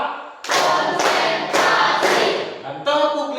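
A classroom of children claps in a counted routine: four broad bursts of group clapping in a steady rhythm, close and loud, followed by a brief spoken voice.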